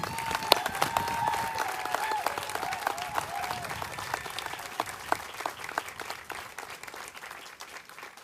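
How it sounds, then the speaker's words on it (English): Audience applause at a military Soldier Recovery Unit change of command ceremony, steady sustained clapping from a sizable crowd with a few voices and whoops faintly mixed in. "let's give Colonel Matthias a round of applause"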